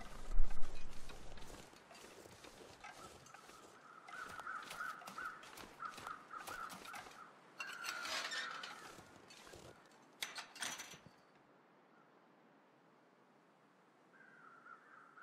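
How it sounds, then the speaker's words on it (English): Crows caw repeatedly in The Long Dark survival game, harsh calls recurring at a moderate distance over light mechanical clicking and wind before the sound thins out and falls nearly quiet. "we've got several sets of crows"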